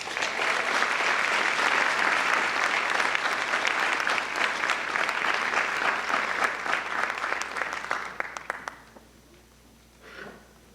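Sustained applause from a school senior awards audience for a scholarship recipient, a dense even clatter of many hands that holds steady before tapering off near the end.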